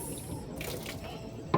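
Water poured from a container into a bowl for a pet dog, a soft, steady trickle at close range, fairly quiet, ending with a small splash.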